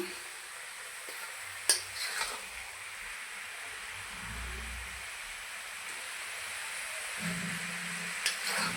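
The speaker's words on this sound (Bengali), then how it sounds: "মশলার সঙ্গে ভালো করে এঁচড় কষিয়ে নিয়েছি" Raw jackfruit sautéing with spices in a pan, a steady close sizzle and hiss with a few sharp knocks of a spatula against the pan.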